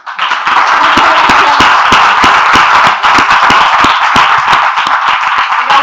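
An audience applauds the writer Elia Barceló at a reading event in Alhaurín de la Torre, with loud, steady, dense clapping from many hands that keeps going without a pause.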